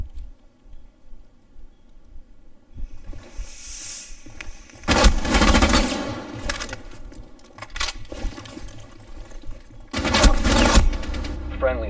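Rainbow Six Siege gunfire comes in two loud automatic bursts of rapid shots, with quieter clatter and game sounds between them.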